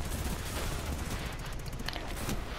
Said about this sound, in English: that's why your friend's shooting me in the side